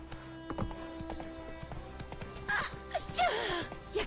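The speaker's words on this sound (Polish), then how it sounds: "Koń do mnie idzie." Horse hooves clopping and a whinnying neigh from the video game Witcher 3, with steady in-game ambience beneath and a louder neigh toward the end.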